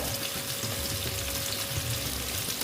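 Several koi fish frying all at once in oil, giving a dense, even sizzle and hiss that stays loud and close throughout.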